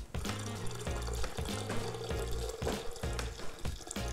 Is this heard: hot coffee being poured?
yes